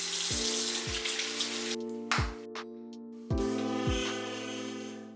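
Cool tap water runs and splashes during hand washing, a hissing flow broken by repeated clunks and taps, with brief pauses where the water stops before resuming, close and moderately loud.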